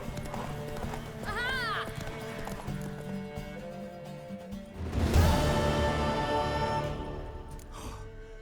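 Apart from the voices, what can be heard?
horse galloping, from The Witcher 3 video game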